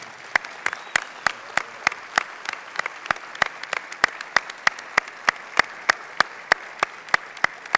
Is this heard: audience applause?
yes